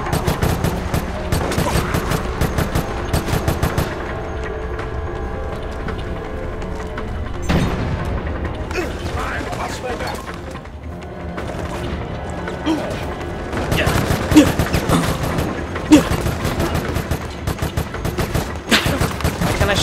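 Sustained gunfire in Resident Evil: Operation Raccoon City, bursts of rapid automatic shots and heavy impacts rattling on and off across the stretch, loud and close, with players talking over the action.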